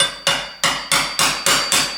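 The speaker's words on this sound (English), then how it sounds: "we carefully bend that area bigger in that way, and we hammer a little bit this" A hammer strikes a part on a Honda Civic automatic transmission during bearing replacement, six sharp, evenly spaced metallic blows in quick rhythm, close and loud with no talk.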